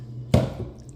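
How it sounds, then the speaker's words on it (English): Tuna chunks broken up in a bowl: a single soft, wet squish with a short tail, close and fairly quiet, alone. "I'm gonna break the chunks a bit"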